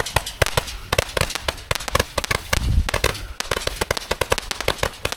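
Rapid bursts of loud shots from a Gatling fireworks cake crackle and pop in quick succession, a dense barrage with a brief rumble partway through, close and sharp.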